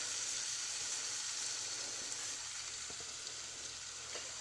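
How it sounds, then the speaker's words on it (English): A big piece of pot roast meat sears in olive oil in a pan, giving a steady, dense sizzle that holds evenly throughout with a few faint pops and clicks near the end. "This is a big piece of meat. I'm going to put it in the pan."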